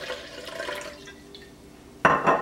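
White wine is poured into a can still holding some cream of mushroom soup, giving a soft liquid trickle and then two short, louder splashing bursts near the end.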